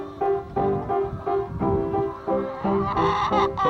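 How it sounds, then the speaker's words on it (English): Chickens cluck repeatedly in close, rhythmic bursts, several birds overlapping in a steady stream of fowl calls. "these are my chickens"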